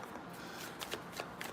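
A deck of tarot cards being shuffled up close, with soft continuous riffling and a few sharper card snaps near the end, alone without talk.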